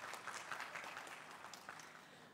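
A small audience at a long-term care conference session gives faint, sparse applause for a presenter, with scattered claps fading quickly.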